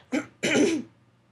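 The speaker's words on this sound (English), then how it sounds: "I'm going to cough 1 second" Two close, rough bursts of a cough or throat clearing, a short one followed by a longer harsher one, nearby and loud, then quiet.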